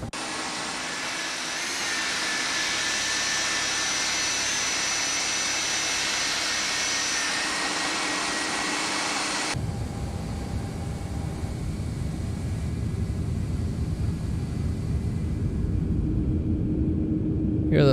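Airliner engines and generators running in the X-Plane 11 flight simulator, a steady whining jet roar that abruptly shifts to a deeper, rumbling drone partway through, continuous and fairly loud with no talking.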